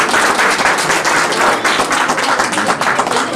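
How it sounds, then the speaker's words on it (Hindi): A loud, dense burst of applause fills a large gathering at an Uttarakhand community celebration in Gurgaon, with many hands clapping steadily and evenly throughout and no voices standing out. "जोरदार तालियां।"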